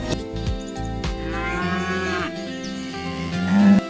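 Cows moo in long, drawn-out lows over light background music, one lowing call clearly in the middle and another rising near the end.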